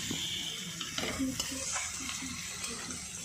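Shrimp frying in a pan with a steady, loud sizzle, along with some stirring and scraping.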